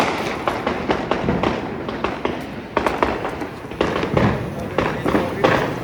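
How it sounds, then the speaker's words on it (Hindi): Diwali firecrackers bang in repeated sharp bursts at an outdoor family celebration, loud and close, with people talking throughout. "ओ जल गए पटाखे जल गए।"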